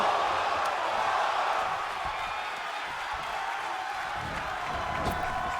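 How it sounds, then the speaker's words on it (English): Crowd at a wrestling show, a steady roar of cheering and shouting from a packed audience, loud and continuous throughout with no clear breaks. "Crowd red hot at the moment."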